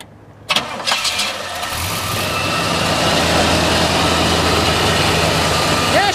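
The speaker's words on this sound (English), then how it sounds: "we'll go ahead and fire this one up for you" A 1967 Pontiac Grand Prix V8 with dual exhaust cranks briefly, catches, and settles into a steady, smooth idle that holds evenly close by.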